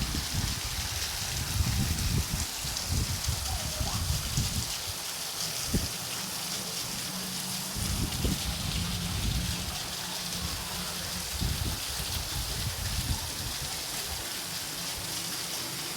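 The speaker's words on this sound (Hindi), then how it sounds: "मतलब बहुत बारिश हो रही थी, परसों से भी ज़्यादा।" Heavy rain pours steadily, a dense, continuous hiss of drops on surfaces with occasional louder splashes and knocks, loud and close throughout with no talk.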